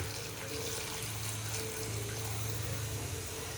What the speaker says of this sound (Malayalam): നമുക്ക് ഇതിലോട്ട് തിളച്ച വെള്ളം ചേർത്ത് കൊടുക്കാം ആവശ്യാനുസരണം